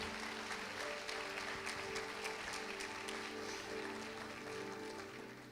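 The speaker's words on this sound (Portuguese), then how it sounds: "Queria que você recebesse ele com uma salva de palmas." A church congregation applauds in a steady, dense round of clapping to welcome a visiting pastor, sustained and fairly distant-sounding, with a faint musical hum underneath.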